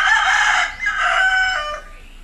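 A rooster crows up close, one loud drawn-out cock-a-doodle-doo with its tone falling away over about two seconds.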